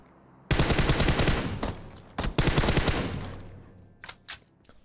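Loud bursts of rapid automatic gunfire in PUBG Mobile, a long sustained volley with a brief pause, then a few scattered shots fading out.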